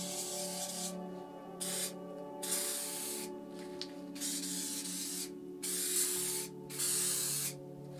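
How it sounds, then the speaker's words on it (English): A spray paint can fitted with a stock cap hisses in repeated close bursts of a second or so each, separated by short pauses, with no talking. "I'll just show you how the stock cap sprays compared to the skinny cap"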